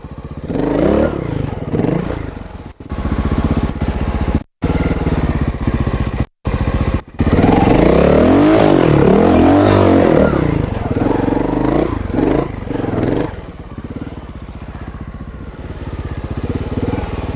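Montesa 300RR trial motorcycle ridden over hill climbs, its engine popping and revving unevenly up close with clattering and scraping, brief cut-outs, and faint voices at times underneath.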